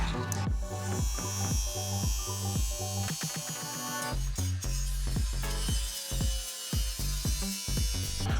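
Power tool cutting a notch into the steel center support of a front bumper for a Land Cruiser 200 Series, a loud continuous buzzing grind with a pulsing, stuttering rhythm throughout, close up.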